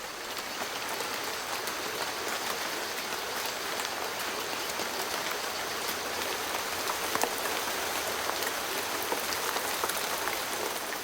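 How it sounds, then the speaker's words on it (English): Heavy rain pours steadily over a Central American rainforest, a dense, even hiss of countless drops on leaves with no pauses or voices. "During the wettest months, so much rain falls"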